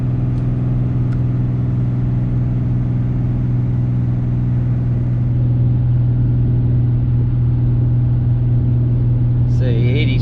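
A Cummins diesel truck engine labours under heavy load climbing a hill in fifth and fourth gear, a loud, steady low drone with a constant hum from inside the cab.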